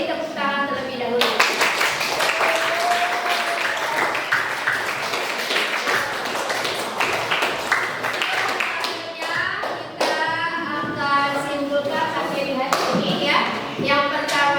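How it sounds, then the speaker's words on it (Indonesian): Students clapping in a junior high school classroom, brisk and close, with children's voices and chatter mixed in as the clapping continues. "Kita beri tepuk tangan terlebih dahulu."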